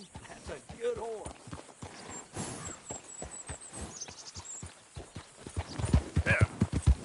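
Horse hooves clip-clop at a walking pace in Red Dead Redemption 2, clear and close, with a brief whinny and a voice talking over the irregular hoofbeats.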